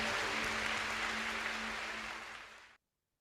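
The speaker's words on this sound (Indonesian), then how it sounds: "Berikan tepuk tangan buat Tuhan kita yang baik." Congregation at an evening church prayer service claps steadily for about three seconds, dense sustained applause that stops abruptly.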